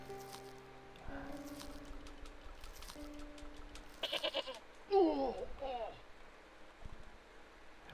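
A goat bleats in the Broken Sword: Shadow of the Templars Reforged adventure game, one loud wavering bleat near the middle, set among short game sound effects and quiet background tones.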